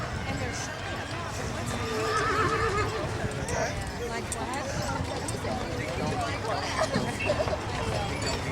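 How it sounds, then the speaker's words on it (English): Three-year-old Belgian draft mares in an old-fashioned Christmas parade neigh and clop along the street amid crowd babble and talk. Their hooves thud in a busy, close rhythm. "Mares are 3-year-olds, and they will be having foals in spring."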